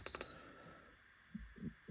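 A USB charger tester set to 9 volts gives two quick high electronic beeps at the start, followed by faint handling noise and soft clicks.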